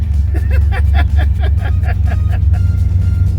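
A car engine with a Holley fuel system stumbles and surges unevenly on throttle, a loud, close, lumpy rumble with rapid irregular pulses throughout.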